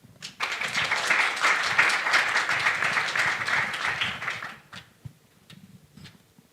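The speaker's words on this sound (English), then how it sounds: "Please give her an applause." A conference audience at a European leaders' event claps for an author being introduced, dense applause for about four seconds that then thins to a few scattered claps and quiet.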